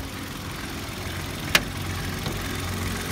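A 2015 Hyundai i10 engine idles with a steady, smooth, continuous hum, with a single sharp click partway through and no speech.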